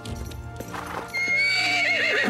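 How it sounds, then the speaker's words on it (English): A purebred horse in an animated cartoon clip-clops with a few hoof beats, then gives a loud, long, wavering whinny that rises and falls over the final second. "He's the best horse in the world."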